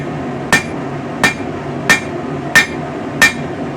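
Hammer blows forge a taper on the tang of a spring steel sword blade made from scrap coil spring: five sharp, ringing metallic strikes at an even, unhurried rhythm, loud and close, with no voices.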